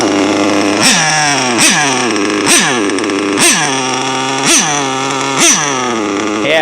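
Modified Pico .28 nitro engine in a remote-control car runs loud and close, a steady buzzing drone with six evenly spaced revving blips.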